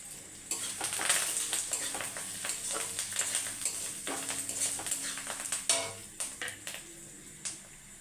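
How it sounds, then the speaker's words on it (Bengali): Dry stirring and scraping of moong dal frying in a hot pan with a steady background sizzle, a spatula knocking repeatedly against the metal, close by with no talking. "মুগের ডালটা ভেজে নেব"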